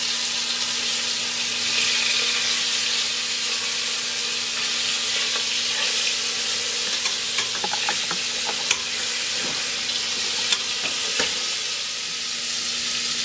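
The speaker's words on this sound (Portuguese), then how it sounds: "selar é que você doura ela de todos os lados antes de você preparar" Pork ribs sear in a pan with a loud, steady sizzle that fills the space, broken now and then by light clicks and pops.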